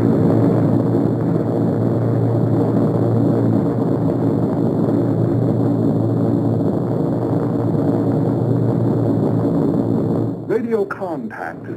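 A WWII propeller bomber drones steadily in flight, a loud continuous engine hum with strong low tones filling the whole span, breaking into a brief clatter at the very end.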